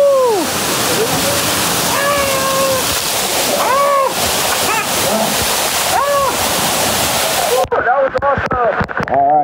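A huge waterfall roars in a loud, continuous wash of pouring water as people pass beneath it, with excited voices and whoops rising over the torrent before the noise cuts off abruptly near the end.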